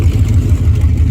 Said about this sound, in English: As you can hear, there's not much of exhaust under here.